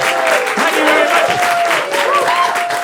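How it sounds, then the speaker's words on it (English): A comedy club audience gives a dense, sustained round of applause as a comedian takes the stage, with voices cheering and talking over the clapping. "Thank you for clapping."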